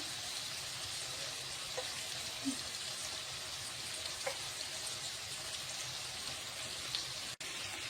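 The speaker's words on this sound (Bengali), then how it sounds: "লাল লাল করে আমি ভেজে নেবো হালকা পেঁয়াজটিকে।" Onion and peas fry in a pan with a steady, quiet sizzle and crackle. A few soft stirring clinks sound now and then.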